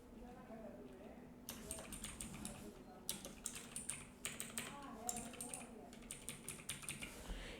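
Quick clicking keystrokes on a laptop keyboard as a page name is typed, starting after a quiet second and continuing in uneven bursts with short pauses.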